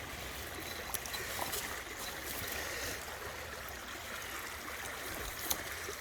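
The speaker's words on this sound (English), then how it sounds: "I just got down to the creek." A creek flows nearby with a constant soft rushing and trickling of water and faint splashy ticks, steady throughout with no voices.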